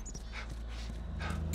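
Dog barking in The Last of Us, a few short bursts under steady low game ambience, moderately close and not very loud.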